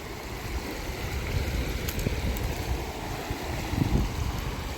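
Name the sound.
flowing stream water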